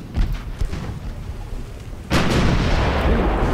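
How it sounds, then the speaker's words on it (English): Naval artillery gunfire in the naval battle video game Ultimate Admiral: Dreadnoughts, heard as a low rumbling volley that swells into a sustained heavy roar of cannon fire and explosions, loud and continuous in the second half. "That enemy armored cruiser really didn't stand up to our gunfire very well."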